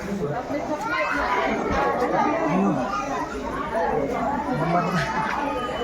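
A dense crowd of devotees chatters steadily at a temple on a busy Tuesday Chaturthi, overlapping voices close and loud throughout with no single speaker standing out.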